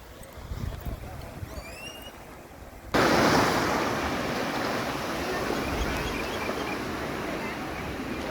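Caribbean Sea surf breaking on a beach, a soft wash that swells into steady, loud rushing waves with wind across the microphone; faint whistling bird calls come before the surge.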